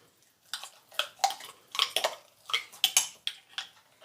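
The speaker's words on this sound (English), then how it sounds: "I'm going to give that one a stir" A spoon stirs thick coconut milk chia seed pudding in a bowl, producing a quick series of light clinks and soft wet scrapes, close and clear, without speech.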